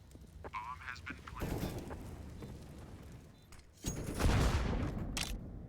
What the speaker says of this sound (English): Grim eats that nade, even though he tries to get away